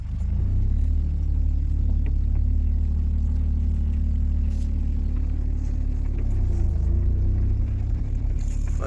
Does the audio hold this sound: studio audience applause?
no